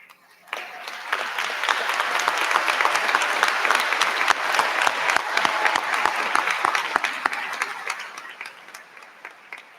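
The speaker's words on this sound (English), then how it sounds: "please stand now so we may applaud your achievements" A high school commencement audience applauds cum laude graduates: loud, dense clapping swells in after a brief pause, holds steady for several seconds, then fades toward the end.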